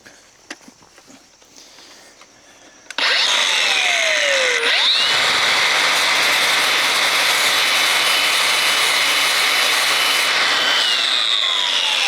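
A power grinder sharpening the blade of a Lymow One mower kicks in after a few quiet seconds of handling clicks, then roars loud and continuous with a high whine and shifting pitch as metal is ground.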